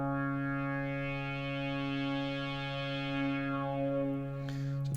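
A single held synthesizer note from the Arturia Mini-V, rich in harmonics and steady, with its brightness shifting as the filter sustain is raised, ending in a brief noisy burst.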